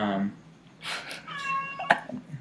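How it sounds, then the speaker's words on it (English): A house cat meows a few times, making short, moderately quiet calls in a room during an interview, with faint sound from people nearby. "cat's making an entrance"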